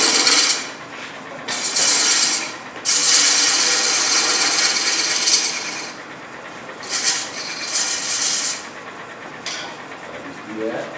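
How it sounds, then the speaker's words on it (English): A handmade ring is sanded with a power tool, making a loud, close, steady abrasive whir in long stretches broken by brief pauses, then shorter bursts. "give it a quick sand"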